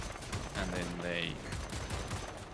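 Rapid gunfire from the video game Wolfenstein: The New Order crackles in dense bursts against a steady wash of game noise, with a voice talking over the shooting.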